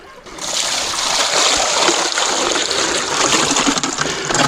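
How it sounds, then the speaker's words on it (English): A gold pan gets a quick rinse outdoors at a wash plant, with a steady, loud gush of splashing water that runs continuously for several seconds. "You need to give the pan a quick rinse just to make sure there's no gold in from the last day."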